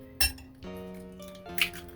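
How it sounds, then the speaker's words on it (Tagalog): Two small eggs are cracked against a glass bowl and added to chicken lumpia filling, giving two sharp, close clinks about a second apart, each followed by a brief ringing tone. "ang ating dalawang itlog na pong ginamit ko kasi maliliit po eh. So, ilalagay po natin siya."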